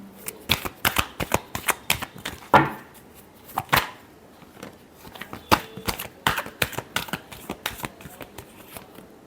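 Tarot cards are shuffled by hand at close range, a quick run of sharp riffling snaps and flicks in irregular bursts, loud and alone without speech.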